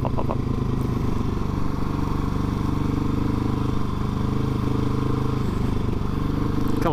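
Husqvarna 701 S single-cylinder motorcycle engine running steadily and close, a continuous loud rumble with clattering undertones and no clear rev spike, during a wheelie attempt.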